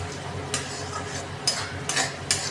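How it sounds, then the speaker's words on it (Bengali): Spices and boiled potatoes for an aloo curry are stirred in a hot pan, a soft background sizzle broken by several sharp scrapes and taps of a spoon against the metal. "আর মশলাগুলো দেওয়ার সাথে সাথে ভালো করে জিনিসটাকে কষে নিতে হবে।"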